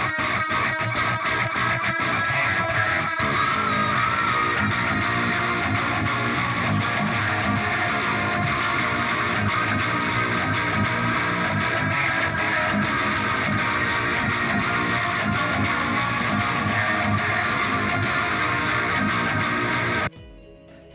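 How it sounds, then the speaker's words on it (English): Dense, loud distorted electric guitar tracks from a metal band's live mix, a sustained wall of chugging rhythm playing for about twenty seconds before stopping abruptly. "So the distortion guitar sounds like this."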